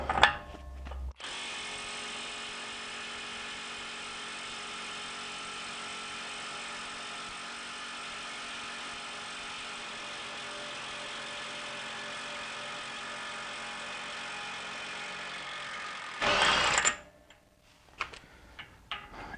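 A Milwaukee 3/8-inch mid-torque impact wrench, fitted with an adapter and a 36 mm socket, hammers continuously at close range for about fifteen seconds in one loud, steady rattling burst, then stops abruptly, followed by brief clattering handling noises.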